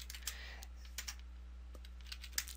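Keys tapped on a computer keyboard while a paragraph is typed into a web page editor, quiet scattered clicks at an irregular pace over a steady low hum.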